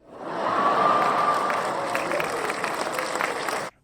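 A cartoon-style crowd sound effect roars with dense cheering, shouting and applause, holding loud and steady for a few seconds before cutting off abruptly.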